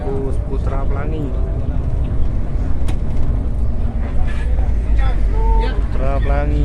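An ALS Putra Pelangi bus runs in Palembang, its low engine rumble steady and close throughout while people talk over it.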